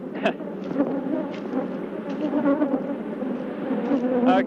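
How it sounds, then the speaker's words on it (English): A swarm of bees buzzes loudly and continuously close by, the droning hum thick and wavering as individual insects zip past. "I actually feel the bees hitting me"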